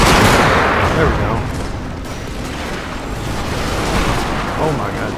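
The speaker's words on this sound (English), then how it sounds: "Some more artillery shots." Artillery in the Medieval 2 steam-and-steel mod fires in heavy overlapping salvos, making a loud, continuous rumble of booms and crackling blasts that rolls on for several seconds.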